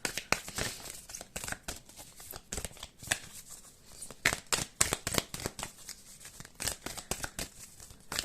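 Oracle cards being shuffled by hand, a close, rapid flutter of card riffles and slides in uneven bursts with brief pauses, and no talking.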